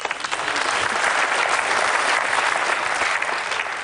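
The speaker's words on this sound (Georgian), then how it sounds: "რატომ მიკრავთ ტაშს?" A studio audience at a TV show applauds in a dense, even wash of clapping that swells slightly and holds steady for a few seconds before easing.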